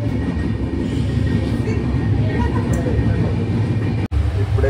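Vistadome coach train rolling from Visakhapatnam to Araku, a steady loud rumble and rattle of the moving carriage with faint wheel clatter throughout, briefly cut near the end.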